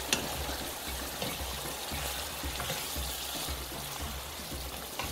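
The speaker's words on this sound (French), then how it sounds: "Après avoir rajouté mon poivre, je viens rajouter le reste de ma mixture. Je mélange." A sauce mixture with pepper being stirred and simmering in a pan, a steady bubbling sizzle broken by regular scraping stir strokes, close and fairly quiet.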